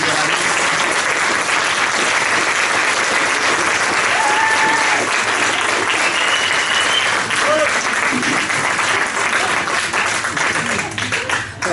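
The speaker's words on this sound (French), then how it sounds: "je pense passer aux applaudissements" An audience at a French talk on healing processes applauds warmly, a dense continuous wash of clapping lasting several seconds, with a few voices calling out faintly over it before it tapers at the end.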